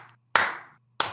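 Two sharp, close bursts of clapping separated by a brief silence, each a quick flurry of hand claps that decays fast. A low steady hum sits in the background between the bursts.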